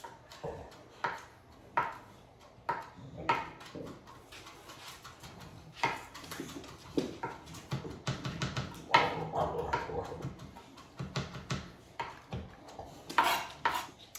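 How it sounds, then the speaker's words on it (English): A knife chops washed Italian parsley on a cutting board in a home kitchen, irregular near knocks and taps that come in short bursts, with some quieter clatter between them. "Okay, so my Italian parsley's been washed. I want to chop it up very small."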